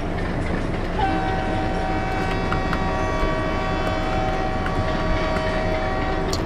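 A WDM3A diesel locomotive in the Open Rails train simulator, near Vadodara station, pulls steadily with a loud continuous engine drone and a long sustained horn note, and no one talks.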